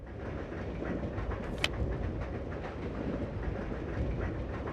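Train rolling along its tracks in the Resident Evil 0 video game, a steady low rumble with faint clickety-clack and one sharp metallic tick, heard alone at moderate level.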